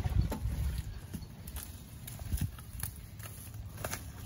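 Hooves clip-clop unevenly as horses walk on a farm with goats nearby, soft scattered thuds over a steady outdoor background hum.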